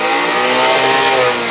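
A Nexia car's engine revs loudly and close up, a sustained mid-pitched roar held steady for a moment before easing slightly, with no voices over it.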